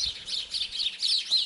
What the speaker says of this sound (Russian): А сейчас на улице резвятся воробьи.